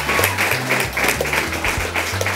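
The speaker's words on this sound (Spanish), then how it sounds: "damos un fuerte aplauso también a Aroa" Studio audience on a TV variety show applauding a guest named Aroa: a steady wash of dense clapping throughout, loud and continuous with no voices over it.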